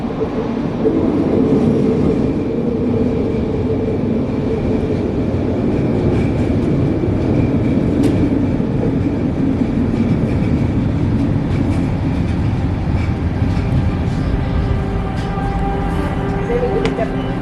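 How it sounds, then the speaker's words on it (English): A Vancouver SkyTrain metro train runs loudly on the rails, a continuous close rumble with faint clicks and thin metallic whining tones throughout. "Never mind, we're getting on this train."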